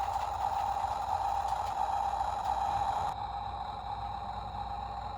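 A Turbo Man action figure toy emits a steady, whooshing electronic flame effect with a faint mechanical whir, continuous and close, dropping slightly in level partway through, with no talking.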